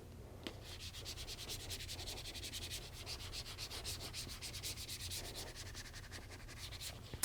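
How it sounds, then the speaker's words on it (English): Fabric is rubbed by hand to transfer a marker-drawn image, producing a quiet, rapid back-and-forth scratching with an even rhythm under a low background hum. "Do more rubbing."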